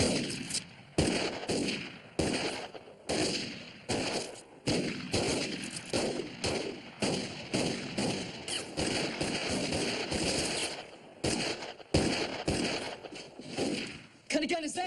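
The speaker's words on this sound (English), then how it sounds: "What kind of gun is that? One of them new autoloaders." Repeated sharp gunshots ring out from new autoloader rifles in a western shootout, fired in rapid bursts with echoing tails over nearly fifteen seconds, loud and close.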